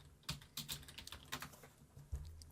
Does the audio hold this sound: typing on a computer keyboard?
yes